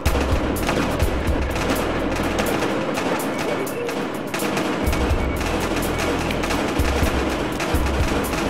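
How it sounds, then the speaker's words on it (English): Battlefield Hardline video game gunfire: rapid bursts crackle almost nonstop, loud and close, with automatic volleys overlapping into a dense barrage. "Reporting gunfire downtown, Elmar Hotel."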